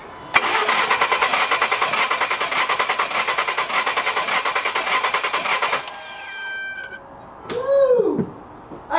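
Ford F150 with a 3.5 EcoBoost engine and a broken, stuck fuel injector cranking: a loud, rapid rhythmic starter chatter for several seconds that stops abruptly, followed by a brief whine and a faint whistle.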